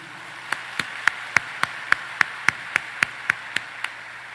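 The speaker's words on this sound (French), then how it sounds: "On encourage les monde de bien yo avec un gros applaudissement solidarité." A steady beat of single claps, about a dozen evenly spaced sharp hits, fairly close and clear over a low background hum rather than a full crowd at a graduation ceremony.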